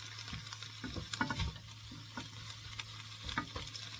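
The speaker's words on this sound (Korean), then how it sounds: "이렇게 충분하게 볶아서 물기가 제거될 때까지 볶아줍니다" Radish greens (siraegi) are stir-fried in a pan until the moisture cooks off: a soft, low sizzle under irregular scraping and tossing strokes of a spatula.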